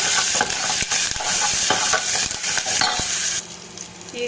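Curry leaves and chopped onion fry with mustard seeds in hot oil for a spinach sambar, giving a loud, steady sizzle with repeated scraping stirs, close up and unbroken until it thins near the end.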